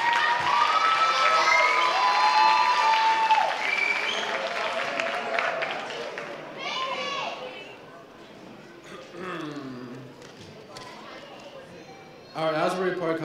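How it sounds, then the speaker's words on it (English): High school graduation crowd in Asbury Park applauding and cheering, loud shouts and whoops over dense clapping that gradually fades, with an announcer's voice speaking over the tail. "Give them a round of applause."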